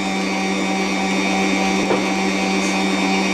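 An electric mixer beats eggs with baking powder for a homemade cake batter, giving a steady, close motor whine with a constant pitch and no pauses or voices.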